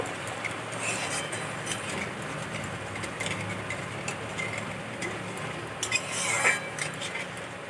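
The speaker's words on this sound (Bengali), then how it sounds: "জল দিয়ে খুব ভালো করে মশলার সাথে মিশিয়ে দেব।" Ground spices are stirred with water in a pan for a Bengali rui-katla fish jhal, with soft irregular scraping and light metallic clinks of a spoon against the vessel, fairly quiet and close.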